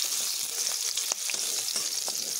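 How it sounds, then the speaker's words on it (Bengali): Cut potatoes frying in oil in a wok, a dense, even sizzle with faint stirring taps throughout, close and continuous. "এবার আমি কেটে রাখা আলুগুলোকে ভেজে নেব"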